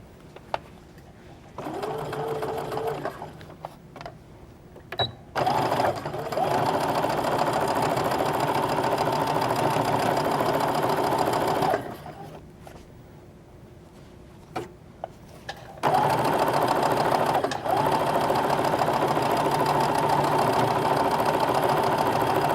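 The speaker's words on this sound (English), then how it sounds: "you want to take a few stitches just to figure out if it's falling in the right place or not. And let's sew." Domestic sewing machine stitching knit fabric in steady motor-driven bursts, with a brief lead-in of a few stitches, pauses in between, then a longer continuous run; close and fairly loud with no talking.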